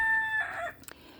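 A Rhode Island Red rooster crows a short, clear call, fairly near, ending abruptly with a couple of brief clucks, outdoors in a backyard flock.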